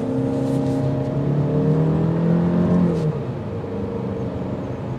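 A 2023 Chevrolet Malibu LT2 accelerates up to speed on a test drive, its engine drone rising steadily in pitch from inside the cabin before easing off, with no talk over it.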